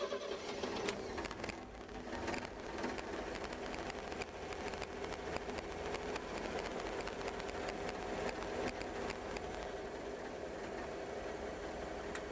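A 1957 Chevrolet 210 with a three-speed column shift runs steadily at idle, its engine a continuous mechanical churn with faint ticking, heard close and alone throughout.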